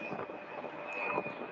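A UPS Boeing 767 taxiing out to the runway at Louisville airport, a steady distant jet engine whine with a high tone held throughout, faint and unbroken.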